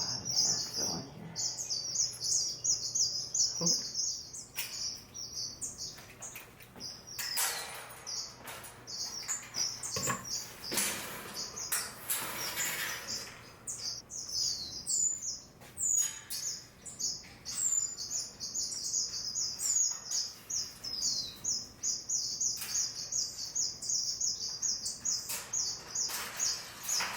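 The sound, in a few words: aviary birds chirping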